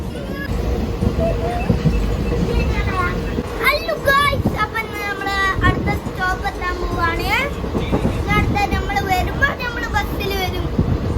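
Steady rumble of a moving passenger train carriage near Vadakara, Kerala, with rattling underneath, while children chatter and speak loudly over it throughout.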